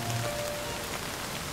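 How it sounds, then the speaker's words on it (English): Steady rain shower patters on surfaces outdoors in an even, continuous wash of close, moderately loud drops with no voices. "Oh no! Rain! Oh, it'll be a short shower."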